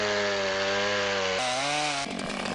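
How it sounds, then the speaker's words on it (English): A chainsaw in the video game Forestry 2017 runs loud and steady with a harmonic engine whine, then drops in pitch as it bites into a tree. "Get the chainsaw out."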